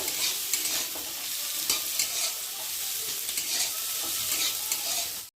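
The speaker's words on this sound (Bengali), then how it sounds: "দিয়ে পেঁয়াজ আর আলুটাকে একটু ভালো করে ভেজে নেব।" Potatoes and onions with chopped green chilli fry in hot oil in a pan, giving a steady bright sizzle throughout with small crackles and stirring scrapes, close and alone without talk.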